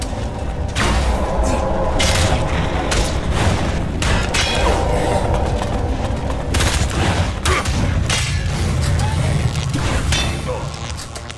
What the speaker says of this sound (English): Someone just threw a grenade.